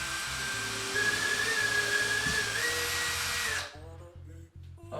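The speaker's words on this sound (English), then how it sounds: "I'm gonna simply take my drill and push through the entire the entire 2x4 into the wall" A power drill pushing through a 2x4 and into the wall while installing a floating shelf; a steady loud whine with a rising pitch runs for about four seconds, then cuts out, leaving a lower background rumble.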